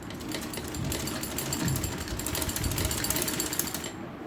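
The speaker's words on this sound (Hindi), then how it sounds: "फिर से डबल सिलाई करनी है हमें" A sewing machine double-stitches the open slit of a shirt, running in a fast, continuous rattling buzz for several seconds before stopping at the end, with no talking.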